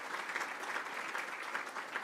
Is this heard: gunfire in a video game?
no